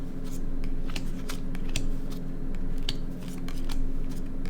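Playing cards dealt by hand onto a table into three columns of seven, heard as a steady run of crisp card snaps and slaps close by, with no one talking.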